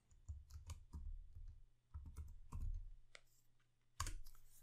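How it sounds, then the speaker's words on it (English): A computer keyboard typed on in quick, uneven bursts of close, soft key clicks over a faint steady hum, very quiet overall. "I'm just going to type out the first name."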